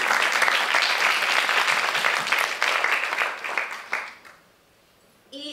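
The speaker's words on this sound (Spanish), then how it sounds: "Un aplauso para ella." A round of audience applause at a ceremony for the International Day of Women and Girls in Science, full and dense at first, then thinning and dying away into near silence before a voice starts.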